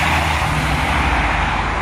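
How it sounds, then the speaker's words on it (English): A truck passing on a road outdoors, a loud, broad steady engine and tire rumble mixed with wind, close and without talk. "There's a truck right there."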